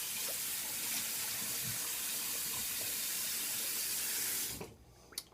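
Running water from a bathroom tap rinses a face after a shave pass, a steady hiss of flowing water at close range that stops abruptly near the end, followed by a few small clicks.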